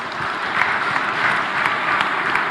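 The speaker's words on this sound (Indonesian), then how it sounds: "kita berikan aplaus ketiga pembicara kita" A seminar audience claps for its three speakers at the closing of a national seminar in Bukittinggi, a steady, dense round of applause lasting throughout, fairly loud and close.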